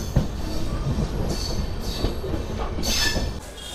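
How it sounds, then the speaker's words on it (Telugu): A passenger train pulls into Kamakhya Junction, with a continuous rumble of rolling wheels, rhythmic clacking and several sharp wheel squeals rising toward the end, heard up close with no talk. "మన ట్రైన్ వచ్చేసి కామాఖ్య జంక్షన్కి అయితే రీచ్ అయింది."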